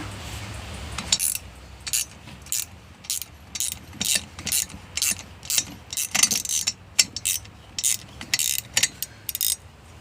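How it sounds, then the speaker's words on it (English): A ratchet wrench clicks in quick, uneven bursts as it turns a bolt to pull an engine valve guide, loud and close with short pauses between strokes. "I'm switching for a manual wrench to one that's a little quicker, since now the bolt is not the bolt, the valve guide is almost out."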